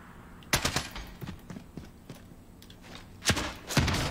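Gunfire in an online team shooter, a few sharp bursts of shots at uneven intervals: one cluster early, then scattered single cracks, and two louder blasts near the end, fairly close and punchy over a quiet game background.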